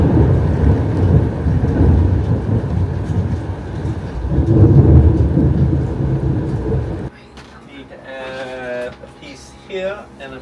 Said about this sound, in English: Wow, the rain is coming down. It's super windy.